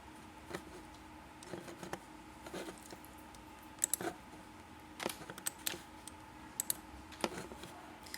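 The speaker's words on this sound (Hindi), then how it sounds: "अगर हम कीबोर्ड पे 1 प्रेस करेंगे" Computer keyboard keys pressed while working in 3ds Max, a series of light, irregular plastic clicks and taps close by over a quiet background hum, with no talking.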